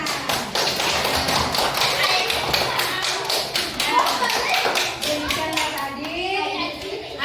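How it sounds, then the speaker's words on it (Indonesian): A class of children claps after a school presentation, with scattered rapid hand claps mixed with kids' chatter and voices throughout. "Tepuk tangan."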